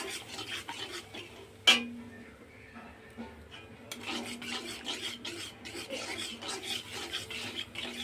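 Pomfret fish masala is stirred and scraped around a pan with a little water, making intermittent rasping scrapes and soft rubbing strokes, with one sharp clink early on.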